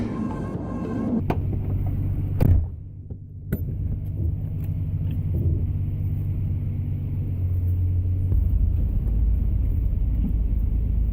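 Nissan Skyline engine starting and settling into a steady, low rumbling idle, fairly close, with a few sharp clicks early on and no talking.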